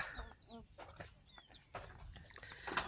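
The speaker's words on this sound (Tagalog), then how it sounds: "Tapos ang dami na nilang manok dito guys." Chickens cluck and squawk nearby in short, scattered calls over faint background noise.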